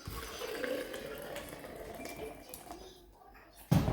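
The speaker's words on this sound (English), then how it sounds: "I'm gonna add some water." Water pours into a coffee press holding ground decaf organic coffee, a soft continuous liquid trickle and splash lasting a few seconds before cutting off, with a louder thump at the end.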